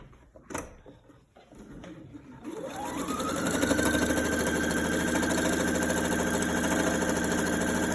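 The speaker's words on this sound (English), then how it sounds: "So then I come over to the machine and I'm going to sew along this hem" A sewing machine stitching the hem of a fabric face mask: a few handling clicks, then the motor spins up into a steady, fast mechanical whir that runs continuously to the end.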